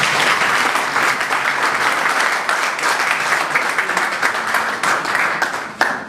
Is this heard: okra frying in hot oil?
no